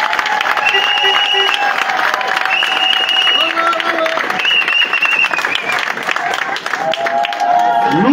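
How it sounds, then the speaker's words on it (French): An audience applauds at a political meeting in Akébé Poteau, with loud, sustained clapping and crowd noise lasting the whole stretch and some voices mixed in. "On applaudit pour lui"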